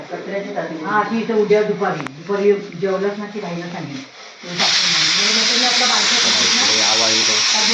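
Voices talk over a quiet background, then a loud, steady rush of escaping steam from a pressure cooker whistle bursts in midway and holds to the end, with talk underneath, in a home kitchen in Konkan.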